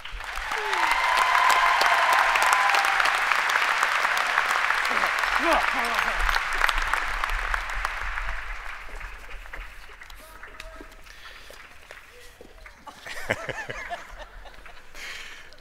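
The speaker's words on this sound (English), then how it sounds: "One more applause before they have a seat." An audience at the Oxford High School Class of 2014 commencement gives loud, sustained applause that gradually thins and fades, with murmuring voices and scattered claps near the end.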